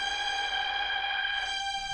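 Sustained string chord soaked in Ableton's Washout effect, a steady wash of bright stacked harmonics held at an even level throughout, with no talking.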